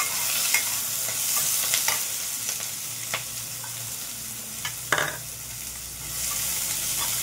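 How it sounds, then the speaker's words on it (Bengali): Chopped onion and dried shrimp sizzle steadily in hot oil in a pan, with clear scraping stirs and clinks of a spatula at close range and no talk. "পেঁয়াজ কুচিটা দিয়েও ভালো করে ভেজে নেব।"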